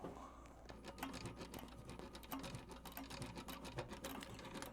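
A sewing machine stitching leather on heritage boots, a fast rapid needle patter running steadily and close, with brief pauses and uneven bursts as the material is fed.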